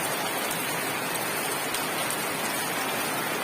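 Steady rain pours down, a dense continuous hiss of drops with no voices.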